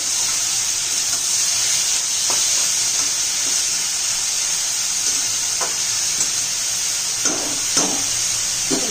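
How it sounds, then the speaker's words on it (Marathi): Tomatoes cooking in a pan for soybean kofta curry, a steady loud sizzle and hiss of frying with a few faint clinks of stirring, heard alone without talk. "व्यवस्थित टोमॅटो शिजेपर्यंत आपल्याला हे शिजून घ्यायचं आहे"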